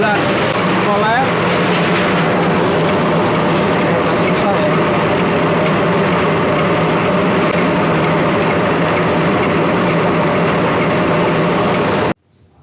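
A rice milling machine's lower polisher runs at about 582 RPM, giving a steady, loud mechanical drone with a constant hum that holds evenly throughout, then cuts off abruptly near the end as the machine stops.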